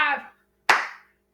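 One sharp, close hand clap rings out during a sock ball toss-and-clap exercise, right after a brief trailing vocal sound, then silence.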